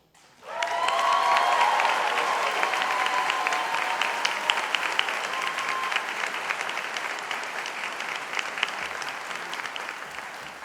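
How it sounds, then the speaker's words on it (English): At a university Faculty of Arts and Social Sciences graduation ceremony, a large audience breaks into applause. The clapping swells quickly and then carries on steadily, fading slightly toward the end. "we've spent a while clapping for each of you"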